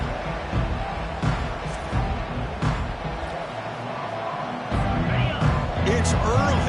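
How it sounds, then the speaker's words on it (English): A crowd at an NC State football game roars in the stadium, a broad steady wall of noise with a few swells, while a commentator talks over it. "this crowd is fired up. Listen to this noise here."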